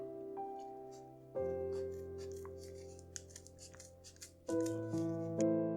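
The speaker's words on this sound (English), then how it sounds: "I'm squeezing the layers together so they don't separate as the scissors push down on them" Scissors snip through the stacked layers of a folded paper snowflake, giving close, crisp cutting sounds in short bursts with brief pauses between.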